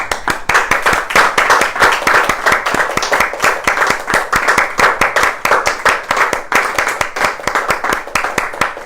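Audience applause after a reading from Srimad-Bhagavatam, a steady run of many hands clapping close by, dense and even throughout with no voices over it.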